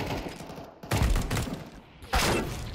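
Bursts of rapid gunfire in Counter-Strike 2, two loud clustered volleys of shots separated by a brief lull, close and sharp.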